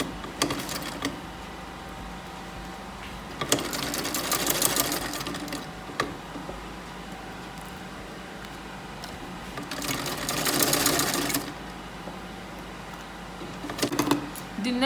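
A sewing machine stitches a flare skirt at a gentle, unhurried pace, with two clear bursts of steady whirring and lighter needle clatter in between, close and fairly quiet.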